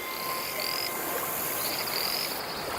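Invasive poisonous frogs croak in a dense, continuous chorus of overlapping calls, loud and close, with no voices.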